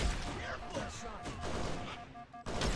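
A bolt shot pistol fires in Halo SPV3, with bursts of sharp shots and crackling energy blasts amid game action while a commentator's voice talks over it.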